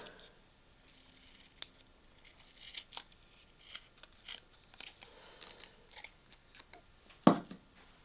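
Scissors snip repeatedly at an uneven pace, short crisp cuts close by, ending with one louder sharp snip.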